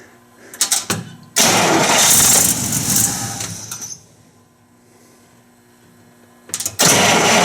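A Buick Roadmaster engine cranks with a few sputtering turns, catches and roars loudly for a couple of seconds, fades to a low idle or stall, then cranks and fires again at the end.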